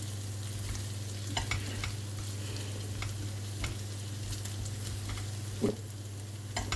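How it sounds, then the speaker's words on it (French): Bacon lardons, onions and freshly grated ginger fry in a pan, giving a steady low sizzle with a constant background hum and occasional clicks of stirring. "après que les lardons sont bien grillés avec les oignons, j'ai rajouté le gingembre râpé"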